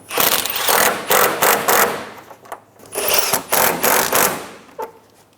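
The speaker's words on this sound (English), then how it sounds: "Reinstall your 10mm bolts." A power ratchet or cordless driver whirs in bursts as 10mm bolts are tightened on the radiator and condenser fan assembly of a 2007-2012 Nissan Altima, loud and close with brief gaps between runs.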